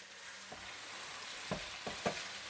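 Chicken curry masala frying in a pan, a steady low sizzle with a few soft knocks of a spoon stirring it, quiet and close, with no talk.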